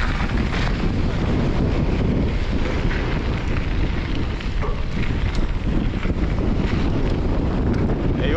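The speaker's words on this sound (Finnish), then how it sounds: "Ei jumalauta, täällä tuulee kyllä." Strong wind roars steadily across a microphone at a bike park, a loud, constant buffeting rumble with no pauses.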